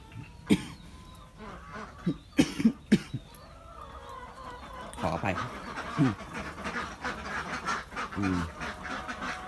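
Egg-laying ducks of about 27 weeks quack in short, loud bursts early on, then give way to a denser, steadier murmur of quacking and shuffling at close range with no talk.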